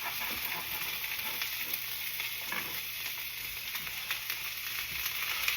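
Onions sizzle in a pan for a down-south étouffée, a soft, constant frying hiss with light stirring scrapes and no voices.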